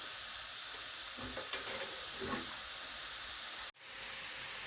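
Onion fries gently in a pan for chicken liver pâté, a soft continuous sizzle with a few stirring scrapes in the middle and a brief dropout near the end, no voices.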